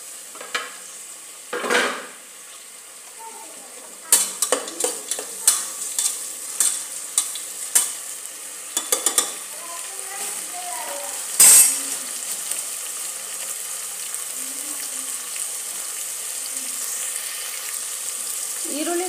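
Onion and tomato cook in a pan for a puliyogare dish, with stirring and clinks of a utensil against the pan over a low sizzle. There are bursts of scraping in the middle and quieter frying toward the end, with no talk.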